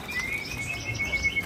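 Murai (magpie robin) at a bird market, giving thin high chirps and short tweets in quick repeated bursts, faint and somewhat distant over a low background hum.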